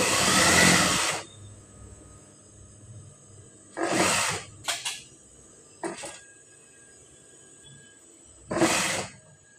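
Overlock sewing machine stitching the side seam of a blouse, with several loud whirring bursts of stitching separated by quiet pauses and brief handling noises.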